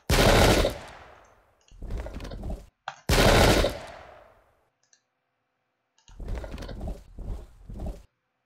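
Light guns volley in the historical battle game Pike and Shot Campaigns at Marston Moor, 1644: two sharp blasts that fade into decaying rumbles, each followed by a rattling burst of rapid crackling shots, with silence between. No voices.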